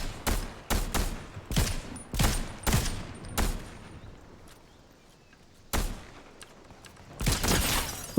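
Loud, close bursts of gunfire in a video game shootout, several sharp shots in quick succession, a pause, then another volley.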